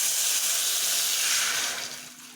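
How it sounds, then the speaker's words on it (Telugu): Hot water being poured slowly into a pot for noodles, a steady hissing splash that continues close by and fades toward the end. "ఇప్పుడు అయితే మనము పట్టుకరతోటి వాటర్ని పట్టుకొని దీనిలో వాటర్ని మెల్లిగా పోయి"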